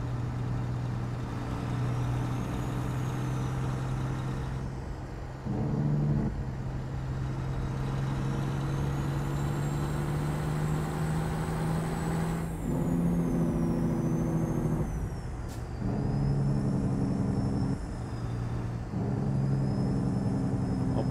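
A truck in Euro Truck Simulator 2 drives with a steady low engine drone and a rising whine, broken by several short hissing bursts of air brakes that come again and again, with no voices.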